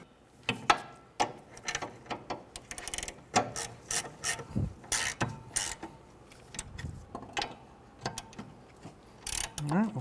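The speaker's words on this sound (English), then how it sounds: "with the 17mm socket, we'll go ahead and tighten those down" A ratchet with a 17mm socket tightens brake bolts during parking brake work on a 2007-2013 Acura MDX, giving quiet bursts of rapid clicking with short pauses and a few knocks between strokes.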